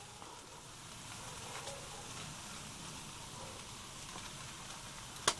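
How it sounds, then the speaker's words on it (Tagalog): Pork liver and marinated pork fry in a pan, giving a steady, moderate sizzle with soft crackle throughout and a brief sharp clink near the end. "i-fry natin ng konti yung atay natin or yung ating pork liver"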